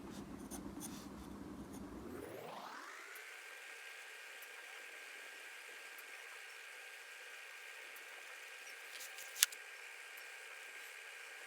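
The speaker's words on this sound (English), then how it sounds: "Later we'll do the dark drawing, dark pencil over it, drawing with the dark pencil." A dark pencil draws lines on paper while the artist sketches tooth tissue, giving faint, soft scratching over a steady low hum, with one brief sharp tap near the end.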